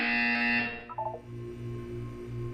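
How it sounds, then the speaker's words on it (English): Electronic buzzer from the Portal 2 video game: a sustained, loud tonal drone for about a second, followed by a short burst of quick beeps, then a steady low hum underneath. "When you hear the buzzer, look down at the floor."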